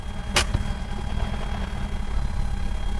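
A car engine idles roughly and unevenly in a garage, a low irregular rumble with a sharp click near the start.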